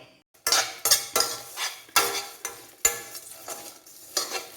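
Whole spices for garam masala are dry-roasted in a pan, with about ten distinct scraping stirs of a spoon against the metal, each a sharp rasp that fades, close and fairly loud.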